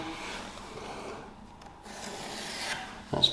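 Pencil drawing a line on a skirting board: a short, quiet scratchy rub of graphite on wood, close by, followed by a brief sharper scrape near the end.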